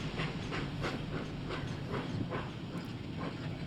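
Rolling train in the Dragon Quest X online game, a steady rumble with soft rhythmic clacks and airy hiss, continuous and moderately loud with no voices.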